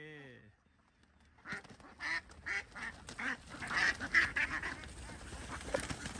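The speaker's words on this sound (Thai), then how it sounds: "นี่เรามาส่งเป็ด" Laying ducks crowd together at a farm in Pha Khao district, Loei province, Thailand, producing a dense, continuous chorus of honking quacks that swells in bursts after a quiet start.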